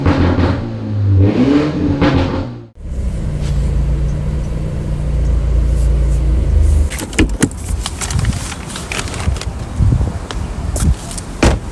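A BMW Z4 G29 fitted with a full titanium E-Head exhaust revs loudly up close. Deep throaty bursts rise and fall, and sharp crackles punctuate the rumble toward the end.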